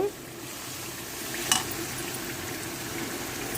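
Turmeric fries in hot oil in a pan for pulihora, a steady, close sizzle with a brief clink of a utensil partway through.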